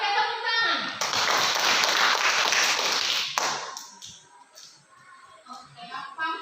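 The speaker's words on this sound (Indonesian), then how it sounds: "Oke, tepuk tangan untuk semua tuh." A classroom of students applauds together, a dense burst of clapping lasting a couple of seconds before fading into scattered taps and chatter, with a teacher and children talking around it.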